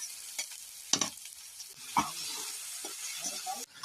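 Onion and tomato fry in a pan, a soft sizzle broken by a few louder scraping stirs, close and quiet, ending abruptly.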